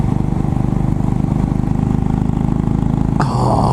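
A Royal Enfield Bullet 500 motorcycle idles close by with a slow, steady single-cylinder thump, a rhythmic low chugging that shifts slightly near the end.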